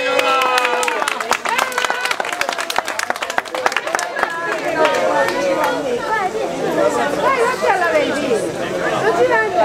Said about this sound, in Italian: Va bene, un applauso.